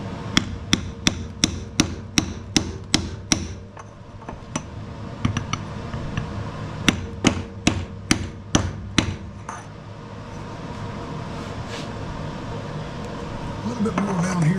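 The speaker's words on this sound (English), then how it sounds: "Get a little bit bigger hammer, a little heavier hammer" A hammer strikes a part on a Troy-Bilt 21-inch push mower, first in a fast, steady run of sharp metallic blows and then in a second, slightly spaced burst, with quieter handling noise between the strikes.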